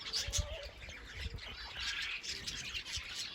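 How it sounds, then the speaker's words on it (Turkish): Nightingales chirping and tweeting just after release from their coop outdoors, with short scattered calls and faint squawks over soft background rustle, at moderate distance. "Şu anda 8-10 tane ilk bülbülü dışarı çıktı."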